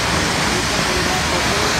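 A forest waterfall roars as a dense, steady broadband rush, loud and close, filling the whole moment without a break.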